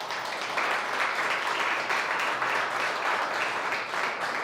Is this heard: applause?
yes